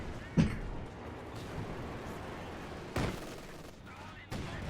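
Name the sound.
Caddy indirect fire shelling in video game Company of Heroes 2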